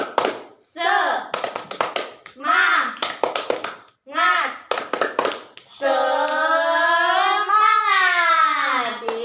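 Schoolchildren in a fifth-grade class perform a rhythmic clapping chant, bursts of sharp hand claps alternating with shouted group chanting, ending in a long sustained collective cheer of voices.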